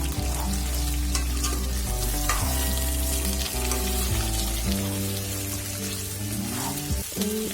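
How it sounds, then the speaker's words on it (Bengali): Potatoes and green chilies fry in oil in a pan while a beef liver curry is being prepared, giving a steady, close sizzle and crackle under a continuous musical background, with no talking. "আলু আমি হালকা করে ভেজে নেব"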